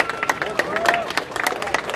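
A protest crowd at an anti-ACTA rally breaks into a short burst of dense clapping and cheering, loud and near, with voices mixed in.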